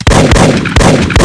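Gunshots from the arcade hunting game Big Buck Hunter Pro, in a whitetail deer round, fire about four times in quick succession, each one a loud, sharp blast with a booming tail, no voices over them.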